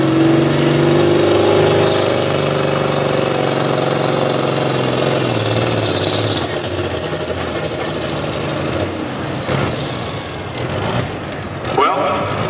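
Pulling tractor at a tractor pull in Langford running rough, a loud steady engine drone with shifting tones that eases off partway, then uneven revving and bursts near the end.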